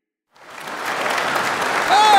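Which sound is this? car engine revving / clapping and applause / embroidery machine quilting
clapping and applause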